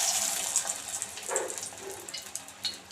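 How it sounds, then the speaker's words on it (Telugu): Spoonfuls of bottle gourd pakodi batter hit hot frying oil, raising an uneven, bubbly sizzle with small bursts as each piece goes in. "ఆయిల్ కూడా హీట్ అయిపోయింది. మనము దీంట్లో ఒక్కొక్కటి చిన్న చిన్నగా వేసేసుకుందాం."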